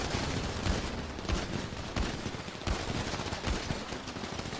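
Gunfire in GTA 5 roleplay, a rapid run of fairly loud shots in quick irregular succession over a busy game background.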